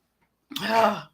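One short, voiced sneeze-like burst, close and fairly loud, lasting about half a second after silence.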